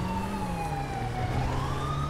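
A police car siren in the video game GTA5 wails in slow rising and falling sweeps, steady and moderately loud over a constant engine-like drone.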